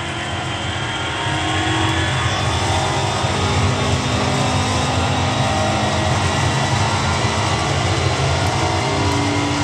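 A car engine in the racing video game Need for Speed Shift roars steadily and loudly for the whole stretch, a dense continuous drone with no speech.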